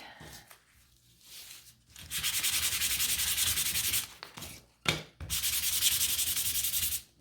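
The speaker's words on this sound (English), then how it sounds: "So grab your sandpaper and give this a sand." Sandpaper rubs briskly over a wooden wreath piece in two long bursts of close, scratchy back-and-forth strokes, separated by short pauses with faint handling noise.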